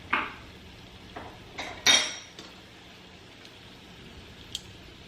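Shrimp scampi sauce being stirred in a pan: a few sharp metallic clinks and scrapes of a utensil against the pan, with quiet gaps between them.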